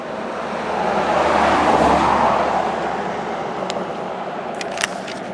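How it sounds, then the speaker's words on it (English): Highway traffic roars steadily beside a small roadside cemetery, a broad continuous wash of passing vehicles swelling around the second mark, with a faint click near the end. "Excuse the noise, we're on the side of a highway."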